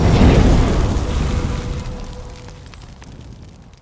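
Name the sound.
rifle shot from a Seekins HAVAK PH2 in 300 PRC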